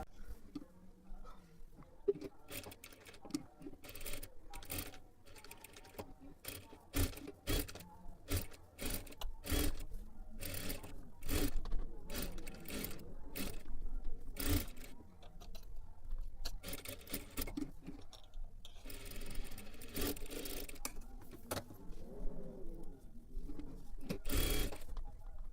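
Domestic sewing machine stitching the neckline and lower edge of a blouse, giving bursts of rapid mechanical needle chatter with short pauses between runs, close and fairly loud.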